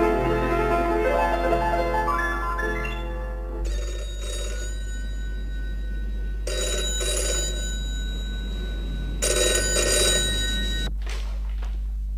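In a 1985 Hindi radio play, a telephone bell rings in repeated loud bursts separated by short pauses over a steady low hum, with no voices during the rings.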